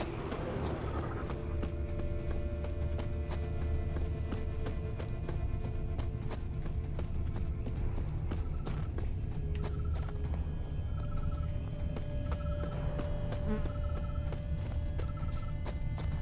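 Rhythmic clip-clop of horse hooves galloping steadily in The Witcher 3, with a whinny and faint mechanical clicks underneath, game-like and continuous.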